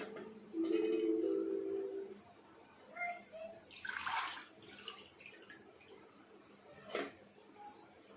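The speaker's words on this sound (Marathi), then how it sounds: "आता मी हा बटाटा इथे गाळणीने गाळून घेणार आहे" Water splashes and pours out in a short gush through a strainer as washed potatoes are drained, with a few drips around it and voices talking faintly before and after.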